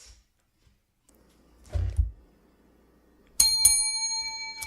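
A small hand bell gives a bright ring that hangs and fades near the end, after a muffled thump of handling, in an otherwise quiet indoor room.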